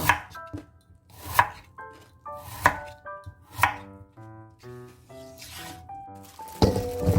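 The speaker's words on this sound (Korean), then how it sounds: "무도 좀 두툼하게 썰어" A knife chops radish into thick pieces on a cutting board, giving a series of crisp, close knocks at an uneven pace, with a faint tonal background running underneath.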